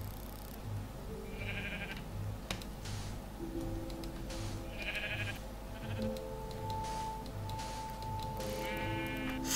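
Minecraft sheep bleating at a distance, three or four brief bleats spaced evenly over a steady background of game music and ambience.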